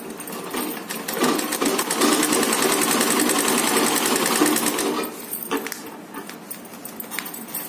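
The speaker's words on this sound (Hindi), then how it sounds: "ये दोनों पोर्शन मजबूती के साथ इस प्रकार सिलेंगे।" Sewing machine stitching fabric bag panels together, a rapid loud mechanical chatter for several seconds that then slows and softens into lighter, uneven ticks.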